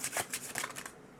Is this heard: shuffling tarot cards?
yes